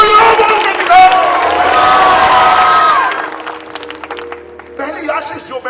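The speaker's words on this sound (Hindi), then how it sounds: "जोर से ताली बजा के दिखाएं, जोर से हालेलुया बोल के दिखाएं।" A church congregation shouts and cheers loudly at a Hindi-language worship gathering, a roaring crowd of voices that swells and then drops away, with scattered clapping and calls near the end.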